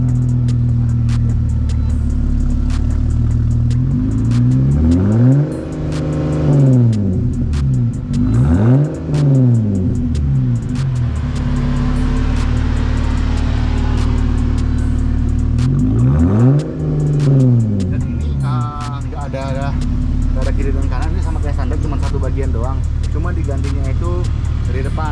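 A Jeep Gladiator fitted with an aftermarket Ingen exhaust revs up in several sharp swells over a steady deep idle, with people talking throughout.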